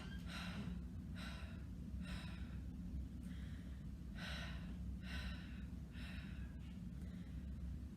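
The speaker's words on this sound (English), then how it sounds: "take a breath in and breathe out, but have a little bounce of the stomach" Breath pushed out through the mouth in about seven short, airy pulses, each given a small bounce from the stomach as a flute vibrato exercise. The puffs come close and evenly spaced over a low background hum.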